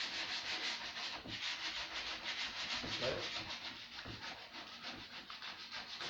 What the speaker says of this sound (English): I am sanding this table, legs, right?